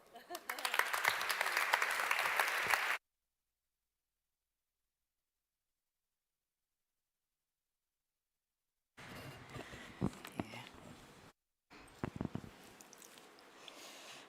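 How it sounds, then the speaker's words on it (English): A short burst of applause from a crowd at a public evening event in a natural history museum in Berlin, then a long silence, followed by scattered, softer clapping and murmuring. "A warm applause."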